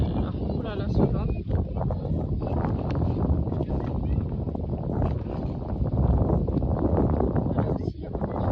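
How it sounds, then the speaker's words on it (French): Wind blowing outdoors in nature, a steady loud rushing and buffeting across the microphone that fills the whole stretch without a break. "Ouh là là, ce vent."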